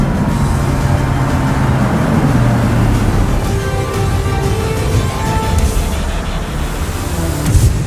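A 2019 Porsche Panamera GTS on a racetrack lap, loud sustained engine roar heard from inside, steady with slight pitch shifts as it accelerates through the lap.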